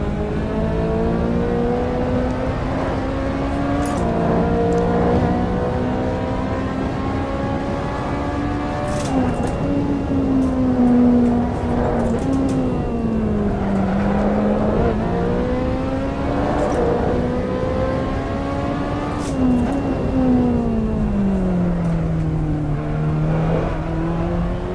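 A Ferrari 458 laps Imola in the racing game Assetto Corsa, its engine note loud and continuous, climbing through the revs, dropping on each upshift and downshift, then winding up again through the corners.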